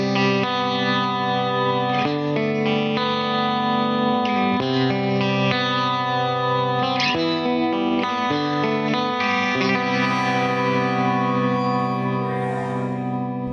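A bright, chiming Rickenbacker electric guitar through a compressor and treble booster strums and rings out sustained chords with a compressed, even tone and a shimmering effect, played alone without any talking.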